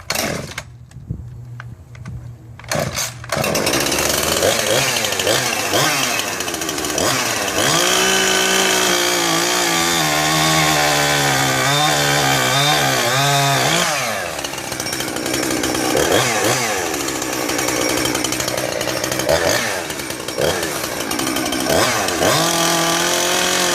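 A ported Husqvarna 372XP two-stroke chainsaw engine pulls over and runs loud and close, its pitch climbing and falling through repeated revs, with no talking.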